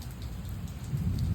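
Rain falls steadily in Arizona City, a soft continuous patter of drops on surfaces, close and even with no voices.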